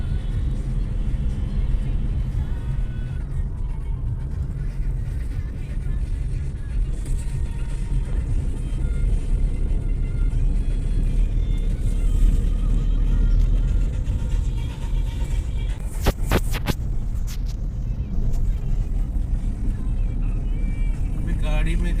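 Steady engine and road rumble fills the cabin of an air-conditioned car on a sunny drive to a village, with music from the FM radio and a brief rattle midway.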